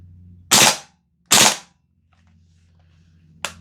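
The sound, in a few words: VFC G36C V2 gas blowback airsoft rifle firing a 2-round burst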